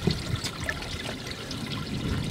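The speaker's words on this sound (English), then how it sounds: "You got to make sure you get the water going through their gills." Water sloshes and trickles in short, soft bursts as a redfish is moved back and forth to push water through its gills before release from a charter fishing boat at Panama City Beach.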